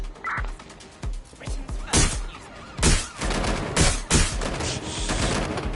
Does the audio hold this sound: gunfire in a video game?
yes